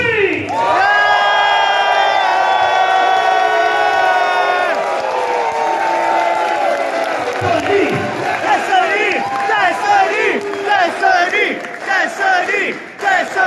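A loud wrestling event crowd cheers, screams and whoops together, starting with a sustained roar and breaking into scattered yells and shouts.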